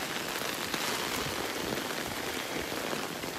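Heavy hurricane rain from Hurricane Florence pours steadily onto a residential neighborhood, a dense, even hiss that stays loud and close without letup and with no voices.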